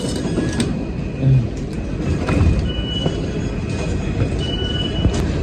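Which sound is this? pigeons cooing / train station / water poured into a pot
train station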